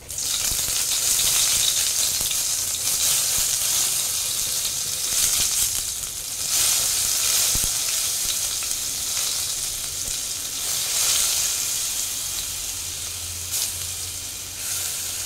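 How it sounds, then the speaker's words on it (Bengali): Grated ginger sizzles steadily in hot oil in a pan for a chana or paneer kofta gravy, a loud, continuous hiss with small swells and a few light utensil knocks, no voices. "তেলটা গরম হয়ে গেছে, আমি এটাতে গ্রেট করে আদা দিয়ে দিচ্ছি একটু"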